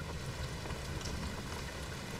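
Steady rain falling in a film scene, a dense, even hiss of drops that holds without a break for the whole stretch, moderately loud with no voices.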